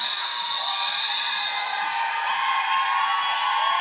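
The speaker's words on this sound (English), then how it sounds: "The crowd is going crazy." A roller derby crowd at Prairie Land Park in Saskatoon roars continuously, a dense wash of cheering and shouting from a large arena audience that stays loud and steady without a break.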